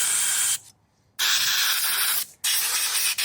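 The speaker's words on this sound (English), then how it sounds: "Blow the carburetor and everything is gonna be fine." Compressed air blasts through a Johnson/Evinrude 9.9 or 15 HP outboard carburetor during cleaning: three loud, steady hissing bursts, the first about half a second, the next two longer, separated by brief silences.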